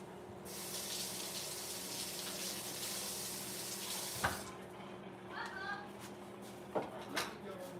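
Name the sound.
washing a knife under running water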